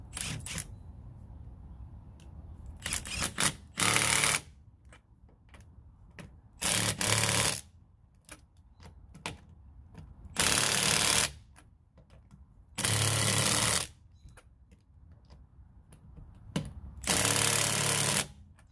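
An impact wrench tightens wheel lug nuts during a tire change, sounding in five loud rattling bursts of about a second each, separated by quieter gaps with faint handling clicks.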